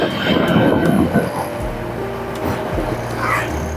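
A motorcycle engine labors up a steep mountain road toward Sunan Muria on Mount Muria, a steady low drone with shifting pitch as it climbs, heard close and fairly loud with wind noise.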